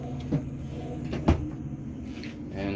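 A drawer in a 2015 Jayco Eagle RV opens and shuts, giving two short close knocks with a quieter shuffle between them, and a faint voice sits under it.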